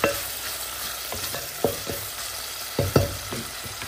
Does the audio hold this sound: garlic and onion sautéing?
yes